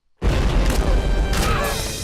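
A loud, sustained blast erupts in the Happy Wheels browser game, a sudden boom that stays dense and rumbling for about two seconds with a brighter crash partway through.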